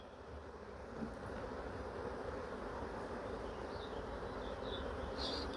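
Honeybees buzz in a dense, steady drone around an open hive, the hum continuous and close with a few brief higher whines from individual bees passing near.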